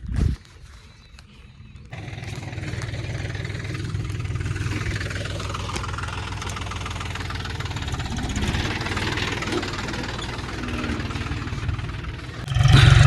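A tractor engine idles and rumbles steadily in a groundnut field, a loud low drone that starts abruptly after a brief quiet moment and runs unbroken to the end.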